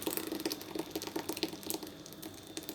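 Blended beetroot juice pours through a t-shirt into a saucepan, a close, uneven trickle with splashy drips and pulses.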